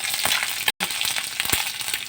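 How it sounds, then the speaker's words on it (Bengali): Chopped garlic hits hot oil and cumin seeds in a wok, giving a loud, steady close-up sizzle with a brief dropout partway through. "কড়াইতে তো আমি তেল দিয়ে দিয়েছি, জিরে দিয়ে দিয়েছি, এবার হালকা রসুন কুচিটা দিয়ে দেবো"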